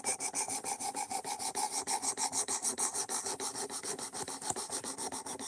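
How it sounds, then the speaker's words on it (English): A knife edge being sharpened on a stone to raise a burr, a steady back-and-forth rasping stroke repeated roughly four times a second, close and even, with no one talking. "Now I'm just fighting with it to get a burr to come up."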